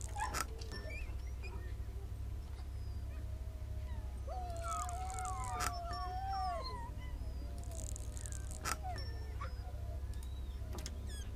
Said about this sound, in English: How are these dog noises?